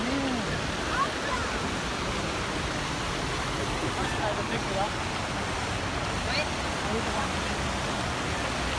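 A water fountain in Washington DC splashes as a steady, broad rush of water that fills the air evenly from start to finish, with faint voices in the background.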